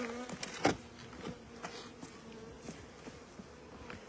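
Honey bees buzz faintly around an opened hive during a bee install, with a thin, intermittent hum and a few sharp clicks and knocks from handling the frames, quiet and close.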